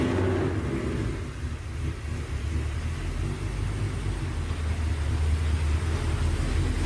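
A Ford S550 Mustang engine runs on its first start-up, a deep, rough rumbling idle that stays close and fairly loud with slight swells in revs and no talking.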